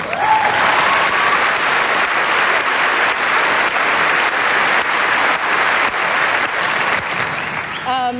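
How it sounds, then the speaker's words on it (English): Australian Open tennis stadium crowd applauding Serena Williams, a sustained loud roar of clapping from a large audience, sounding dense and continuous with a faint voice emerging near the end. "everyone should really applaud her for everything she's gone through"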